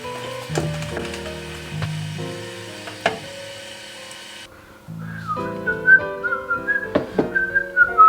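A tea kettle's whistle rises as a thin, wavering high tone over steady background music and clatter. It comes in partway through and holds for a couple of seconds near the end.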